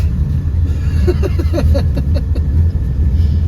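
Inside a cheap old Chevy Nova, the engine idles with a steady low rumble, loud and close, while a person speaks briefly over the running engine.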